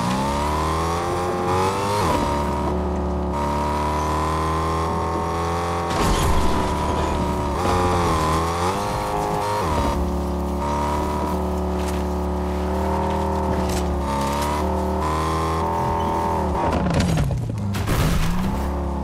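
A Fortnite car engine drones continuously, its pitch rising and falling as it revs and shifts, loud and steady throughout.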